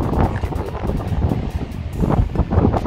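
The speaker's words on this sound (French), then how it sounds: "il y a tellement de vent" Strong coastal wind in Galicia roars and buffets the microphone continuously, with gusty rises and falls and a faint wash of sea water underneath.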